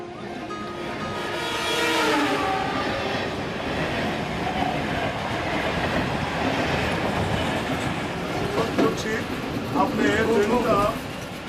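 A train rumbles across the Harding Bridge with rhythmic clattering of wheels on track, loud and steady, while a voice talks over it.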